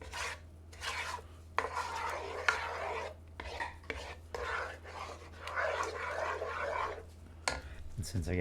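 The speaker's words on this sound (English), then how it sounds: "Now, I'm going to stir this up." A spoon scrapes and stirs vegetarian lasagna filling with tomato sauce in a pan, giving repeated rough, rasping strokes in uneven bursts over a low steady hum, close and moderately loud.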